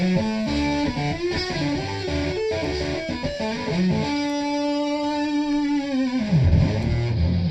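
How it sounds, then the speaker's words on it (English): Heavy, guitar-like distorted tone generated entirely in software by Airwindows DSP gain processing, playing loud sustained notes and short riffs with a fizzy, saturated edge, alone without talk. "something which is not a million miles away from a heavy guitar sound, although it's all entirely in the box"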